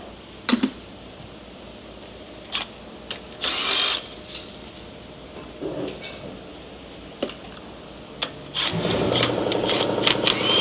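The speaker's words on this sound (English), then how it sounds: "I use my electric gun, the compressor comes on." Electric impact gun loosening tight bolts during a body-off teardown of a Duramax LBZ 6.6 turbo diesel, giving loud short bursts over the steady drone of a running air compressor in a workshop.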